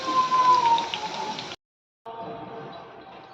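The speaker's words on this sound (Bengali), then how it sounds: "তো এই যে আমি ভালো করে ভেজে নিচ্ছি আলুগুলো।" Potatoes fry in a pan with a little salt and turmeric, giving a close, continuous rain-like sizzle that cuts out briefly and then returns slightly softer.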